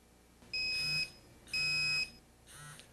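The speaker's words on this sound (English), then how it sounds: "includes tests of the display, audible, visual, and vibrating alarms" Three shrill electronic beeps from a T40 Rattler gas detector's warm-up alarm test sound at an even pace, the first two loud and steady, the last one fainter.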